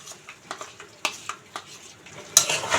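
A spoon stirs cashew paste into chicken gravy in a pan, giving irregular scraping and clinking strokes against the metal over a soft background sizzle, with one sharper clatter near the end.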